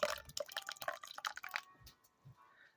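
Spring water poured through a funnel into a vermicompost container garden, a close, trickling, dripping pour for about a second and a half before it tapers off into a few faint drips.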